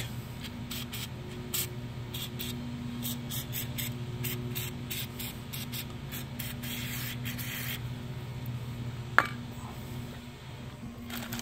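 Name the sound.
spraying white lithium grease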